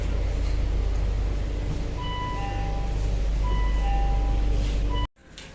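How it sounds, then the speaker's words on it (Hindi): A nearly empty early-morning Delhi Metro Yellow Line train runs with a loud, steady low rumble and a brief high tone, the noise cutting off abruptly near the end. "सुबह सुबह की मेट्रो"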